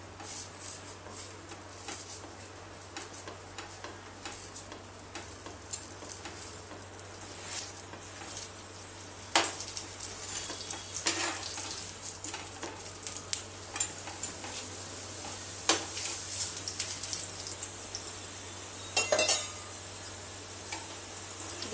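A paneer-stuffed paratha fries in oil on a griddle over medium gas heat, giving a continuous soft sizzle with scattered crackles and light pressing taps, close and steady, with no talking.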